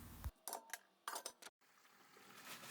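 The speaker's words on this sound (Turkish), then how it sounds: "Karıştırıyorum." A spoon stirring food in a cooking pot after pepper paste and tomato juice are added, several short scraping clinks in irregular bursts, then quiet simmering background.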